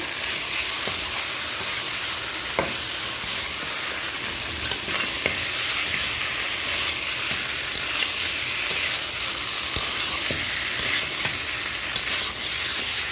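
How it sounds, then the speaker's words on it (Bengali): Mutton pieces fry with spices for a red curry before going into a pressure cooker, a loud, dense, steady sizzle and hiss close up, broken by repeated scrapes and clinks as the meat is stirred. "মাংস মশলার সঙ্গে সময় নিয়ে ভালো করে কষায় নেব"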